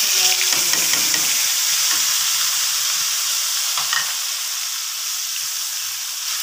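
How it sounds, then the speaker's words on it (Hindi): Dry coriander and cumin frying in a pan with onion paste, for a spicy red kidney bean dish. The sizzle is loud and steady throughout, with a few scraping stirs near the start. "प्याज का पेस्ट शामिल करके हम इसको इसका कच्चापन दूर होने तक भूनेंगे अच्छे तरीके से"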